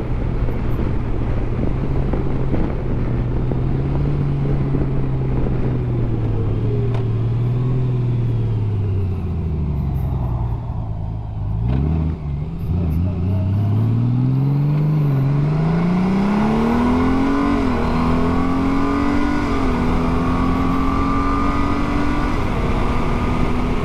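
A 2021 Honda Goldwing DCT motorcycle accelerates in 7th gear on a top speed run, a loud continuous engine drone rising steadily in pitch with heavy wind rush, briefly dipping mid-run before climbing again.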